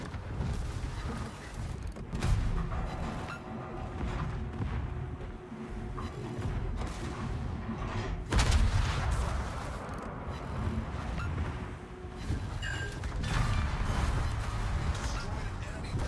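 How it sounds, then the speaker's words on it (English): A battleship in a naval battle video game is destroyed by torpedoes. Heavy booming explosions and creaking, rumbling impacts sound over a constant din of combat, with a voice talking throughout. "Torpedoes. Destroyed an enemy battleship."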